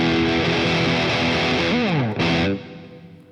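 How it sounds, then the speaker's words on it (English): Distorted electric guitar through a series humbucker P-Rail pickup in a double-cut body, a gritty sustained chord with a pitch-bending slide near the end before it cuts off and fades. "When I put some grit on it, that series humbucker is just,"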